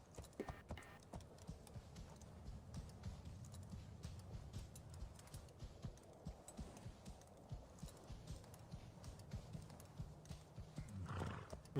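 Horse in a Ubisoft video game trailer, hooves clip-clopping in a steady rhythm with a faint whinny near the end, low in level behind a soft background hum.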